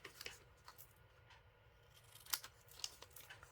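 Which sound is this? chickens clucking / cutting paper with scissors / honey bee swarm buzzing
cutting paper with scissors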